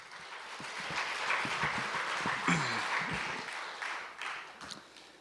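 Applause from an audience at a gathering, a broad wash of many hands clapping that swells, holds steady for several seconds, then thins out near the end, with faint voices mixed in.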